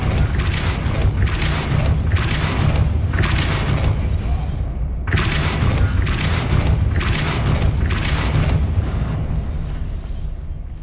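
Depulso spell cast in the video game Hogwarts Legacy: loud, repeated booming whooshes in a steady pulsing rhythm, each a broad rushing blast, continuing over about ten seconds with no speech.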